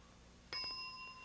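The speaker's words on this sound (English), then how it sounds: "start describing when the bell sounds" Sharp game show bell on a 1988 CBS daytime studio set, a single bright ding that rings out and sustains for about a second after a quiet stretch, with no talking.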